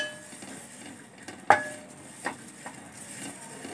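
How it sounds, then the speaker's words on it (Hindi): Cumin seeds dry-roast in a hot pan, a faint crackle under a sharp metallic clink and a few softer scrapes as a spoon stirs them. "उसी गरम बर्तन में हम जीरा ऐड करेंगे और जीरे को भी हम भूनेंगे।"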